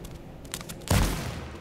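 Gunfire in the video game H1Z1 arrives as a quick cluster of shots followed by a louder blast, faint and compact over a low game background.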